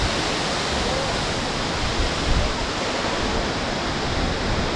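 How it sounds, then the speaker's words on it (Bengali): Mountain waterfall along the route to Kedarnath, a dense continuous roar of rushing water filling everything, loud and unbroken with no voices. "পাহাড়ের মধ্যে দিয়ে দেখো সুন্দর করে ঝর্ণা, ঝর্ণার জল"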